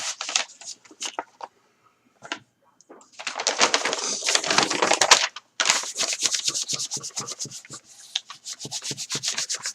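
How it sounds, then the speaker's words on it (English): Bone folder rubbing firmly over glued paper on a junk journal cover, a close, dry scraping that comes in short strokes, then long sustained rubs and a quick rhythmic back-and-forth run, with no talking. "You can even take your bone folder and burnish it real good."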